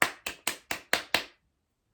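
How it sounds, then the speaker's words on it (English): Six sharp hand claps in a steady, evenly spaced rhythm, close and crisp, each with a quick decay, followed by silence. "But what about when we clap our hands together?"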